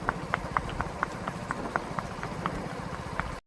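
Horse hooves clip-clop in a steady, quick rhythm on a hard surface, with a low engine hum running underneath.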